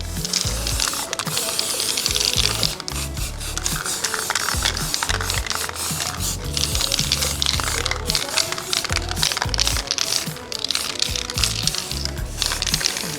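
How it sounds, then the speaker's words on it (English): A continuous loud hiss from an aerosol spray paint can coating a candle holder, close and steady, with brief breaks and some clicking and rattling between bursts. "Remember to spray outside, to spray your candle holder on the outside"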